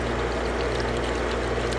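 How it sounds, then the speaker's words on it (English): Windshield washer fluid poured from a jug into a car's reservoir, a steady close gurgling stream that flows without a break and is heard alone. "simply pour it in."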